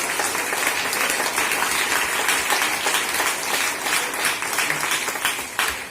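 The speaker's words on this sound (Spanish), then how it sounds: "Denle un aplauso al Señor Jesucristo." Church congregation applauding steadily together, a dense, continuous wash of clapping close around the listener with no voices over it, holding at an even level for several seconds.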